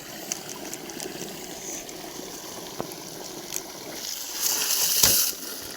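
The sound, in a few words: water gushing out from a pump outlet at night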